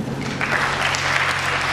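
An audience claps loudly in tribute to a composer at a musical evening, a dense, steady wash of applause running through the whole moment with no voices over it.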